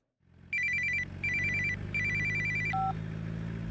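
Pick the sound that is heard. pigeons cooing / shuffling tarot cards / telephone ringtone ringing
telephone ringtone ringing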